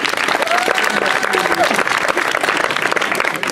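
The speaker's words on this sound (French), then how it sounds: "Je vous laisse encore une fois applaudir." An audience at an evening concert applauds the pianist with a loud, sustained wash of clapping, while a voice speaks briefly over it.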